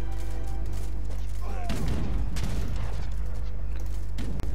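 Mortar fire and explosions in the strategy game Age of Empires III: dense gunfire-like bursts and booms rolling over a steady low game hum, with a sharp whistle-like streak midway, continuous and fairly loud.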